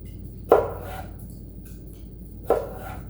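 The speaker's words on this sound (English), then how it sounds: "Going to cut it into sticks." A knife chopping through potato planks to make sticks, two firm thuds on a cutting board about two seconds apart, close and clear over a quiet background.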